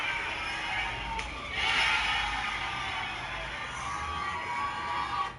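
A wrestling crowd cheers as Corey Taylor strikes Corbin, a broad, steady roar that swells louder around the middle and stays sustained throughout, with no clear speech over it.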